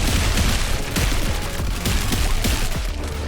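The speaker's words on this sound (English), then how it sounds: "Ooh, don't want to stand in the explosion." Explosions rattle through a boss fight in the roguelike game Pathogenic, a dense, loud barrage of overlapping bursts and booms that keeps rolling for several seconds with no pause.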